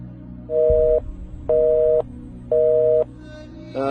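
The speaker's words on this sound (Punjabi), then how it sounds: "ਲਓ ਜੀ ਫੋਨ ਲਾਈਨ ਕੱਟ ਦਿੱਤੀ ਗਈ ਆ" A telephone busy tone heard on a radio call-in show after the caller's line was cut: three clear, evenly spaced beeps of about half a second each, with the start of a fourth, loud and alone.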